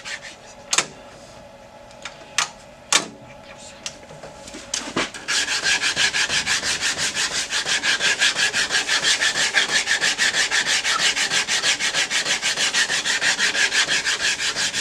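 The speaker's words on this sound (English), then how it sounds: "And finally a sanding block. I think this has 120 grit on it. Finish smoothing that." Sanding block with 120-grit paper smoothing a wooden walking stick handle, a few sharp knocks first, then steady rapid rhythmic rasping strokes, close and loud.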